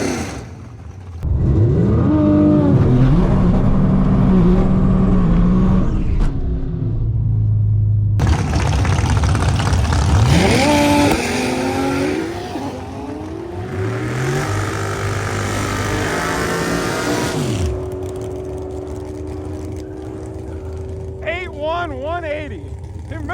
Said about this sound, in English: That's a burnout right there.